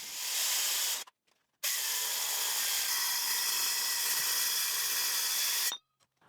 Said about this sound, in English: I'm still loving this saw. It amazes me every time I use it, and it's cutting through 12mm thick steel like it was wood.